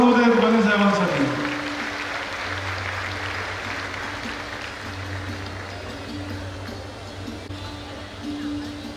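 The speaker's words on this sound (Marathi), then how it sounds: "आज टाळ्या जोरात होत आहेत बने साहेबांसाठी" A crowd at a political rally applauding loudly and continuously after a brief voice at the start, with a steady hum beneath the clapping.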